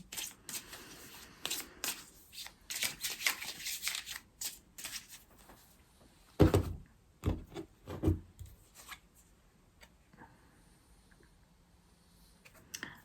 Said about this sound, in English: So I'm going to pull a card now